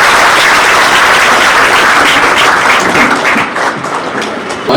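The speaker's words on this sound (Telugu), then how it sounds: "మరొకసారి చప్పట్లతో ధన్యవాదాలు" A hall audience at a Women's Day event claps loudly in thanks for a guest, a dense, steady burst of applause that thins slightly toward the end.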